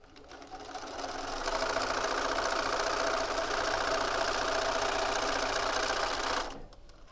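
A sewing machine stitches quilt pieces together, a steady fast mechanical hum that builds up, runs evenly for several seconds and then stops abruptly, close and clear.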